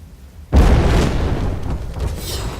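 A grenade goes off in the Fable 3 video game with a sudden, loud, close blast that rolls into a long, rumbling roar lasting a couple of seconds.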